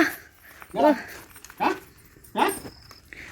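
A dog gives a few short, soft vocal sounds, whimpers or yips spaced about a second apart, close by and fairly quiet.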